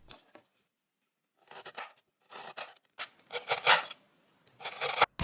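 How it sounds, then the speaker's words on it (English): Knife cutting slices of ginger on a board, several short scraping, rasping strokes in separate bursts with quiet gaps between, close and fairly soft, no voices. "then cut a few slices of ginger"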